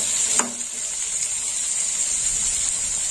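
Potatoes, ivy gourd and slit green chilies fry in plenty of oil with a constant, even sizzle up close, broken only by a single short clink near the start.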